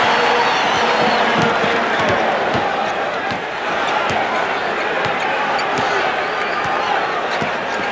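A packed Boston Garden crowd roars through the 1986 NBA Finals, Game 2, Rockets at Celtics. The loud, sustained arena din carries ball bounces and sharp thuds, and broadcast talk runs underneath.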